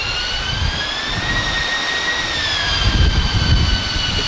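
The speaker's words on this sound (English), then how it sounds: "Still with the Rolls-Royce Pegasus Vector Thrust turbofan getting it underway." A Spanish Navy EAV-8B Harrier with a Rolls-Royce Pegasus vectored-thrust turbofan at an air display, its steady high whine and broad roar held evenly and strongly throughout, swelling slightly near the end.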